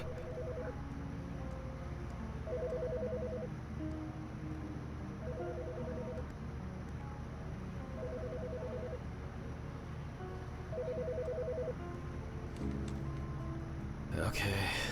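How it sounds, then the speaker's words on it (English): A telephone rings inside the video game Autopsy Simulator: a steady electronic ring repeating in evenly spaced bursts about every two and a half seconds over a quiet, hissy background. "The fucking phone."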